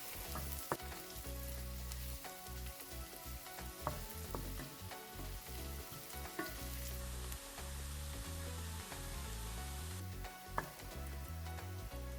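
Mushrooms fry with garlic and chopped parsley in a pan for a creamy mushroom pasta. A steady close sizzle runs throughout, dotted with small pops and ticks, and no voices are heard.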